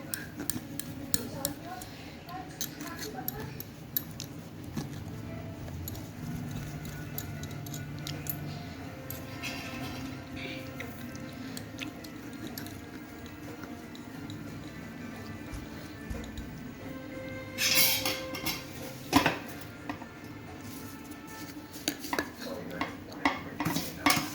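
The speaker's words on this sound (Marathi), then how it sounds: "चारी बाजूंनी हलवून घेऊ." A vessel of oil-coated pickle pieces shaken and tilted on all sides during traditional pickle-making, giving a continuous low rattling and clinking of metal with scattered sharper clatters, close by, with some faint voice in the background.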